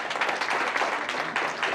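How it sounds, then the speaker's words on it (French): Audience applause for a man at a holiday-season community gathering with a Christmas dinner, a dense, steady patter of many hands clapping throughout at moderate volume. "Il faut faire un bon applaudissement pour lui."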